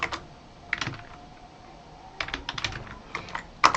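Computer keyboard typing a folder name, with scattered quiet keystrokes at first, then a quicker cluster of clicks and a final sharper tap.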